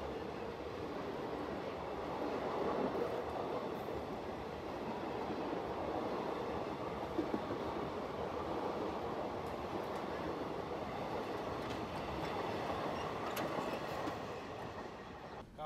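Tirumala Express passenger train rolling steadily on rails, a continuous loud rumble with faint wheel clatter throughout, heard from on board after leaving Samalkot station.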